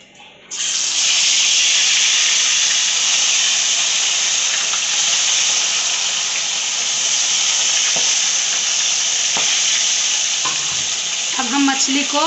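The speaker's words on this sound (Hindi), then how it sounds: "अब हम तलने जा रहे हैं। हमारा तेल भी गर्म हो चुका है।" Tilapia seasoned with salt and turmeric drops into hot oil for a Bengali-style curry, and a loud, steady sizzle starts at once and holds throughout. There are faint clinks near the end and no speech.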